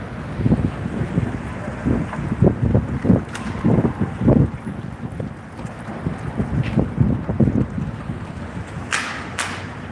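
Strong wind gusts through downtown Las Vegas on a very windy day, buffeting the microphone in loud, uneven surges that rise and fall with walking noise beneath.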